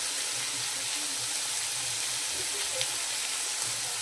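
Chopped tomato fries in a pan, giving off a soft, continuous sizzle and hiss at a fairly low level.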